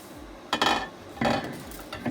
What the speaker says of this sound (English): here's the elbow macaroni goes in